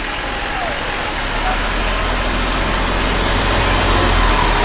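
A fire engine rolls past during a Memorial Day parade in Saddle Brook, its engine giving a steady, loud low rumble that holds evenly throughout with no voices on top.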